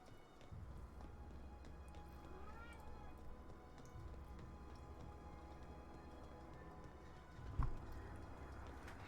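A cat meows in The Outer Worlds, set over a steady low ambient hum and game background noise, with a short sharper thump near the end; some talk is present.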